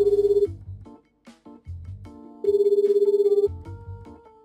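A phone rings repeatedly while someone calls an old man, with steady electronic ring tones in two long bursts separated by short quieter gaps and softer tones between them.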